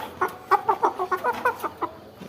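Chickens clucking in a run of short, close, rhythmic calls at night feeding time, with quail also kept nearby on a small farm.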